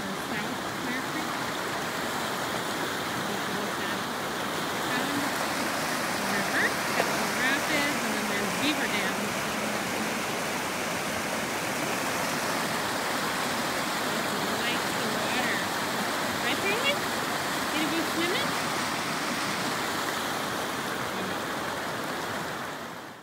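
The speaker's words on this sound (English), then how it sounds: "I think it's Clear Creek." Clear Creek in the Bighorn Mountains rushes steadily over rocks, a dense, continuous wash of flowing water close by with faint voices beneath it.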